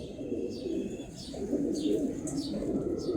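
Pigeons coo softly in a loft, low repeated throaty calls overlapping, with a few faint higher chirps from other birds in the background.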